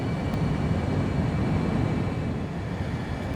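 An F-35A jet in Microsoft Flight Simulator cruising toward RAF Lakenheath gives a steady, loud, broadband engine roar that stays even and continuous throughout.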